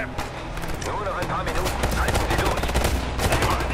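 Bursts of gunfire in the Ghost Recon: Future Soldier video game, repeated sharp shots in quick clusters at a steady loud level, with some voice mixed in.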